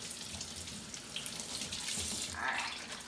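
A kitchen tap runs steadily into a sink as lettuce is rinsed under cool water, a continuous close splashing rush.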